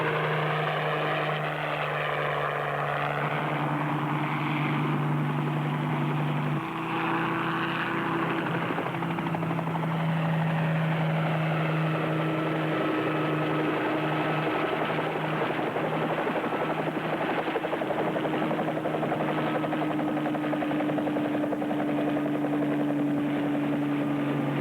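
Helicopter 38 Bravo in flight, a loud, continuous rotor and engine drone with a steady low hum that shifts pitch slightly partway through and carries on alone without talk.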